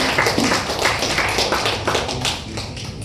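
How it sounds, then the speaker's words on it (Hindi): Live audience gives loud, sustained applause at a Ganesh Puja event honoring a giant laddoo world record, dense overlapping claps filling the whole stretch close to the listener. "इस चीज के लिए जोरदार तालियां और फोर्थ पूरा टीम के लिए तालियां प्लीज"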